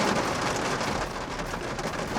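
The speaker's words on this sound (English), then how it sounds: "the loud rain and hail and thunder" Heavy rain and hail pound down in a dense, steady roar during a thunderstorm on a Montana peak, with a deep low rumble of thunder underneath, loud and constant throughout.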